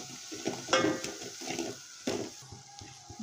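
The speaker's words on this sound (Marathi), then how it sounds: "हा आपला घरचा मसाला, हे आता मस्त भाजून घेऊया आपण" Homemade spice masala dry-roasting in a pan, with soft stirring scrapes and a faint sizzle in short bursts, near and fairly quiet, no talking.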